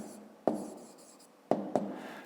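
A pen writes answers on paper for a fifth-grade maths exercise: a few quiet scratchy strokes, with sharp taps at the starts of three strokes and soft rubbing in between, close by and with no talk.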